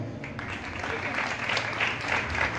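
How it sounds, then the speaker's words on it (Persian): A crowd applauds at the opening ceremony of a Scott Kelby photowalk in Iran, with steady, dense clapping lasting about three seconds and holding an even level throughout. "تشویق کنید"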